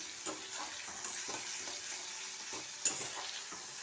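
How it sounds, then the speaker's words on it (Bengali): Spice paste of chilli with turmeric and coriander powder sizzles steadily in oil in a pan, with a spoon scraping and stirring in soft rhythmic strokes over the constant frying hiss, close up and alone. "ভালো করে আগে কষিয়ে নেব।"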